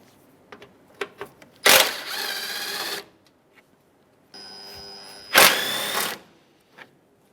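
Two bursts of a power tool whirring as 10mm bolts are backed out of the bumper grille of a 2007-2013 Acura MDX, each run lasting about a second, with light clicks and handling noises between them, close and clear.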